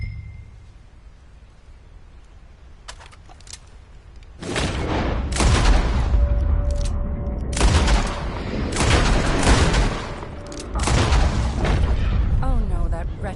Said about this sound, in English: Shoot on the exhale. My turn. I'll shoot a few more this time.